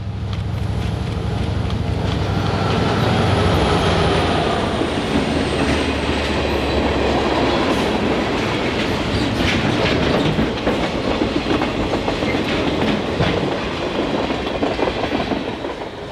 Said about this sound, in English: the train began to decrease its speed after the crew received instruction to take the siding